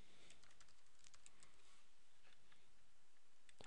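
Computer keyboard typing while a URL is entered during Microsoft Dynamics CRM 2011 setup: a quiet, steady run of light key clicks in bursts over low background hiss, with no voice.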